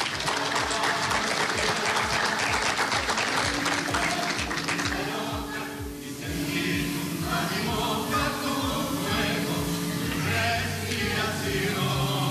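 An audience applauds a seniors' choir from Rocha at a choir festival, with rhythmic clapping keeping time with the singers before it loosens into broader applause as the singing continues.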